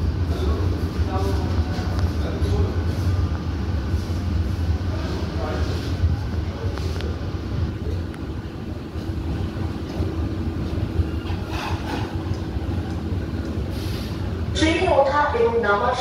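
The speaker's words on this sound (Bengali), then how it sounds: "আমাদের ট্রেন চলে এলো হচ্ছে সোদপুর রেলওয়ে স্টেশনে।" An AC EMU local train rolls into Sodepur station with a steady low rumble and wheel noise throughout, a recorded announcement voice speaking over it, and a brighter burst of rattling and clatter near the end.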